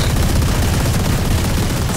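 Gunfire in Valorant comes as a dense, continuous stream of overlapping shots. It stays loud and steady for the whole stretch with no pauses and no talk over it.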